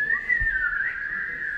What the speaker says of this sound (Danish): så nu skal vi også lige fløjte lidt